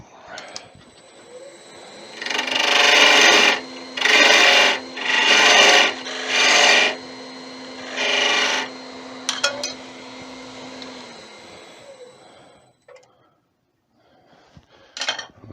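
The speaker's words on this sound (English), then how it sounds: "So use a parting tool." A parting tool cuts into a spinning wooden wand blank on a lathe in five loud rasping bursts, each about a second long with short pauses between, over the steady whine of the lathe motor before it winds down.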